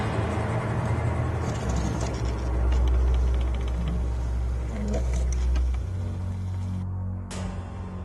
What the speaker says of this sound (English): that motor turning the wheel comes from below here